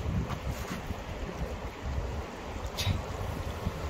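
Steady wind buffets the microphone outdoors during freshwater fishing, a continuous low rumble and gusty rush with no talk.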